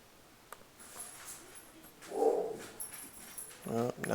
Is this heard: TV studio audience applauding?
no